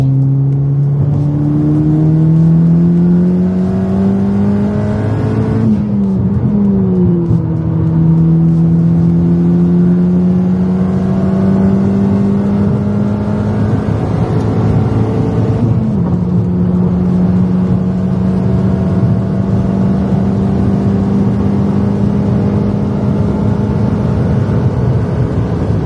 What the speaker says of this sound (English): Let's do a straight third gear pull.